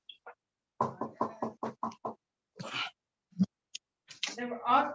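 A few sharp knocks land on a door in the middle of a remote online meeting, brief and close, with people talking before and after.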